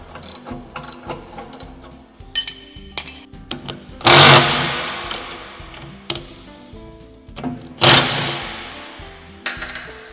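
A wrench ratchets repeatedly while loosening 19mm bolts on a 3-point tiller, giving quick clicking bursts with pauses between them and two louder scraping clatters, all close and with no talk.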